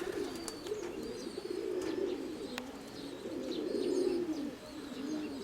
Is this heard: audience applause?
no